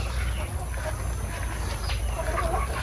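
Chickens and ducks feed on a farm in General Santos City, with busy pecking, scattered clucks and quacks over a steady noisy background.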